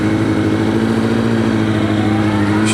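A Suzuki SRAD motorcycle pulls away and accelerates hard, its engine note loud, close and continuous under heavy wind rush, with no talking.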